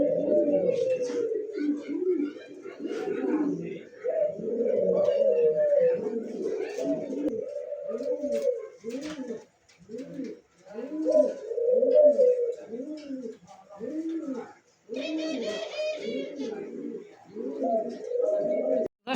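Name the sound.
black Nun pigeons cooing in cage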